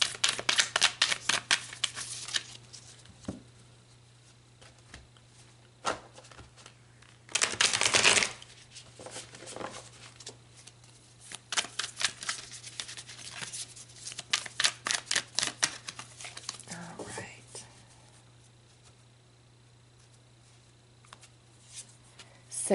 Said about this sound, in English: So let's pull some more tarot cards and gain some deeper insight.